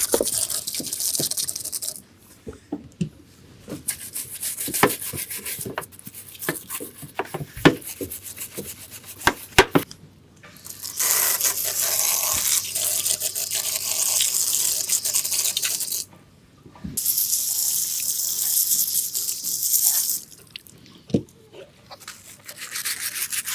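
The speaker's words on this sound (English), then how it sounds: "I'm going to just clean some of this off with a sponge and a water hose" Sponge scrubbing a boat deck with a water hose running, bursts of spraying water alternating with rubbing strokes and light knocks, close and steady, no talking.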